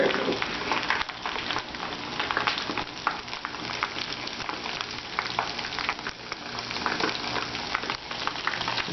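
Coconut-coated shrimp, four or five at a time, fry in hot oil with a dense, continuous crackling sizzle, loud and close throughout.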